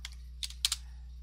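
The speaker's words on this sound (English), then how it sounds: "So I'm just going to type something very simple." Typing on a computer keyboard, a few quick soft key clicks in small clusters against a quiet, humming background.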